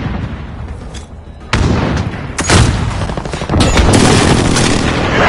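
Precision airstrike explosions in the Modern Warfare video game, a run of loud booming blasts and gunfire-like bursts that surge in stages, heavy and continuous, with no talking.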